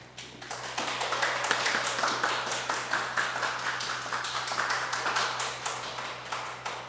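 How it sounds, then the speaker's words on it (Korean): A congregation at a Sunday worship service claps to welcome the pastor, with many hands striking in a steady, even rhythm over a low constant hum. "목사님 나오실 때 박수로 맞아 주시기를 바랍니다"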